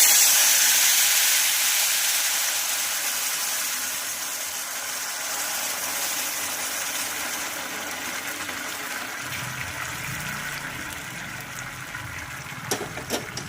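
Boiling water poured onto fried semolina in a kadai for lapshi, producing a loud, steady hissing sizzle that slowly eases into softer bubbling.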